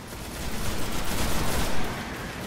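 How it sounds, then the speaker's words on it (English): Gunfire crackles through a firefight in the video game Destiny, dense overlapping shots in a loud, continuous barrage with no voices. "Wait, who's shooting at them?"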